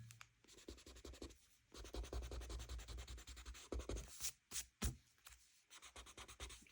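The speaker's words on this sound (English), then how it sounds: "as you're doing this, you want to sketch light because you want to be able to erase your mistakes." A colored pencil sketches lightly on paper in quiet, close-up, rhythmic scratching strokes that come in short bursts with brief pauses between them.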